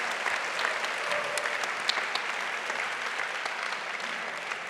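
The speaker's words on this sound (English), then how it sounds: "big applause to our other nominees" Sustained applause from an audience at a pitch competition honoring the nominees, a dense, steady wash of clapping throughout at a fairly even level with no break.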